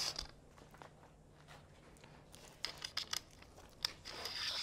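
A KickAss shower tent awning is slid along its rail channels during installation at a camp, giving soft, intermittent rubbing and creaking. The sounds are quiet and close, growing a little busier toward the end, with no talking.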